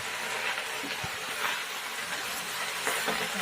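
Onions hiss and sizzle steadily in hot oil in a kadai while leafy greens are being cooked, a continuous bright frying crackle that stays fairly even throughout with a few small pops.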